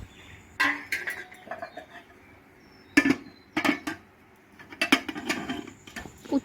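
A metal spoon clinks and scrapes against plates as cooked rice is served out for everyone at lunch: irregular clusters of light taps and knocks, close by, with quiet gaps between servings.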